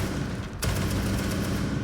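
A gun fires continuously in Rainbow Six Siege, used by the operator Tubarao to open sight lines. A loud, sharp onset leads into a dense, close rattle that lasts to the end.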